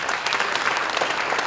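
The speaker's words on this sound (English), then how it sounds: "let's just give him a round of applause." An audience at a foundation's tenth anniversary event claps in sustained, dense applause, loud and steady throughout with no speech over it.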